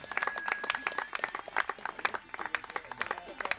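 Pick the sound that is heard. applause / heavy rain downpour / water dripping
applause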